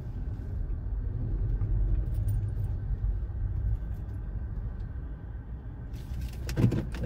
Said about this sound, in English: I'm gonna move my car forward because I just found a better parking spot.